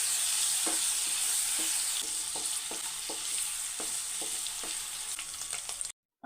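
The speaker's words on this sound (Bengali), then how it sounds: "এবার আমি চিংড়ি মাছগুলোকে খুব ভালোভাবে ভেজে নেব।" Shrimp frying in oil with a little salt and turmeric powder, a steady close hiss with soft rhythmic scrapes of a spatula through the pan, no talking.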